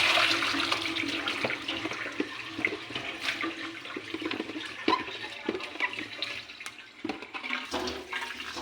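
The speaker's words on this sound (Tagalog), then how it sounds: "iugasan ko na po yung ating kimchi, na gagawing kimchi" Cabbage salted for kimchi is rinsed under a running tap, with steady splashing water and sink clatter throughout, up close and with no talking.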